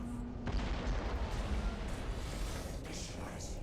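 Transdimensional Bolt weapon striking enemy ships in the space battle game Battlefleet Gothic Armada 2, a dense, rumbling barrage of distant blasts and crackling impacts under light talk.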